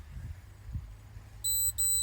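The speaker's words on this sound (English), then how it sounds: "That beeping that you hear is actually the in-car camera system." Two short, shrill electronic beeps from the in-car camera system of a Ford Police Interceptor sound back to back near the end, after quiet low rumbling.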